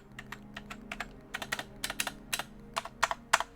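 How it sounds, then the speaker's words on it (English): Keys on a ZX Spectrum Plus home computer keyboard are pressed one at a time, giving close, crisp clicks at an irregular typing rhythm in an otherwise quiet room. "Just the sound of the keys."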